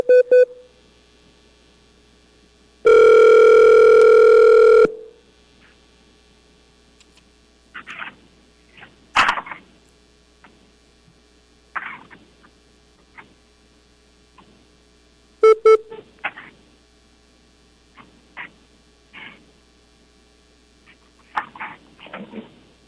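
Telephone tones sound as a public hearing board places a call, a loud steady two-second tone followed by short beeps and scattered clicks in otherwise near silence, with no voices.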